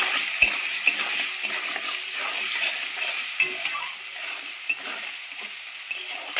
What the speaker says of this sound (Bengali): আলুটা আমি একটু নাড়চাড় করে নিলাম